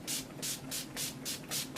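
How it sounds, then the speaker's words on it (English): Urban Decay All Nighter setting spray misted onto a face in six quick, even bursts, each a short soft hiss of fine aerosol, close and clear with no talking. "using the Urban Decay All Nighter setting spray"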